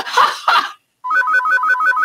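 A phone ringtone plays a rapid repeating electronic melody, loud and close, after two brief bursts of sound and a short silence, its pattern cycling about five times.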